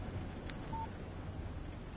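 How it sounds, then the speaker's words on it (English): A short video-game phone text message alert, a quick high blip followed by a brief steady tone, over a constant low hiss. "Text message from Barry."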